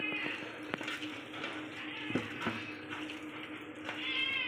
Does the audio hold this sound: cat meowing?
yes